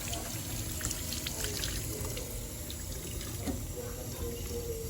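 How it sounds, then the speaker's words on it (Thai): Running water pours steadily from a tap as a mother washes vegetables at home, a continuous even splashing that lasts the whole stretch with no pauses. "คุณแม่ล้างพักอยู่"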